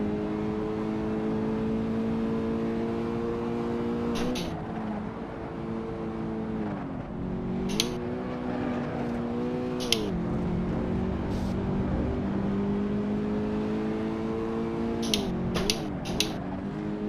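Toyota GR86 engine in a racing video game at Imola, holding a steady droning note that dips and climbs again through gear changes and corners, with brief sharp clicks layered on top.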